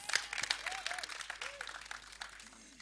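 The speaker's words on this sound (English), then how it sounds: "Give him a round of applause" An audience applauds a director at an Indian TV trailer launch, producing a faint, distant patter of clapping with crowd murmur and brief whistles or voice tones mixed in.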